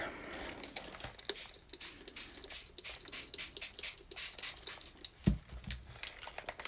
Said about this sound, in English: And where's my spray bottle?